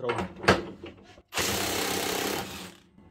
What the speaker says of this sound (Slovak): Vyskúšame povoliť skrutky, kde je 1000 Nm na režime 1898 Nm.